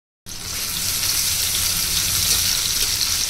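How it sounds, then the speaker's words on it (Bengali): Chopped onion frying in hot oil in a wok: a steady, close sizzle that starts abruptly and holds evenly throughout, with no talking. "পেঁয়াজটা হালকা করে ভেজে নিয়েছি"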